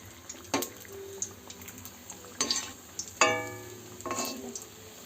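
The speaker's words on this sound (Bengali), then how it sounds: "এই দেখো ভাজা শুরু হয়ে গেছে" Malpua batter fries in hot oil, giving a quiet bubbling sizzle with several sharp bursts of spattering as batter hits the oil, spaced a second or so apart.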